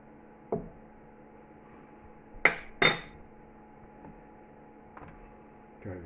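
A big spoon clinks against dishes while a whisky, honey and lemon posset is being made: two bright metallic clinks close together, with fainter taps before and after over a quiet kitchen hum.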